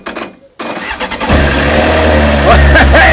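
A Kawasaki ZX9R Ninja motorcycle engine cranks briefly, then catches and settles into a loud, steady idle close by.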